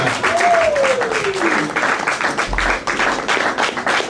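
Audience applause for a performer at an open mic night at The Brew House Gallery: steady clapping from a small crowd throughout, with a brief sliding tone early on and some voices underneath.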